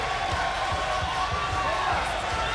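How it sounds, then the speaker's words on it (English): A sold-out Philadelphia crowd at a bare-knuckle fight keeps up a loud, steady roar of cheering, with a commentator's voice talking over it. "The cheer from this sold-out Philadelphia crowd"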